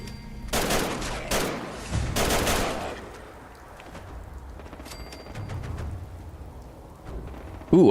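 Bursts of gunfire from Fallout 4 fill the opening seconds as several loud, dense volleys of rapid shots. A quieter stretch of scattered game sounds follows.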